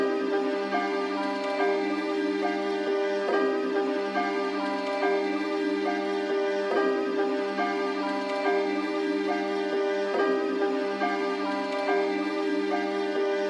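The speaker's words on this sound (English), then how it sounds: "it's a more like violin kind of dark sounding sample bit that you'll hear" A dark, violin-like sample pitched up two semitones plays as a sustained, steady harmonic layer, repeating in phrases roughly every three and a half seconds, loud and without any voice.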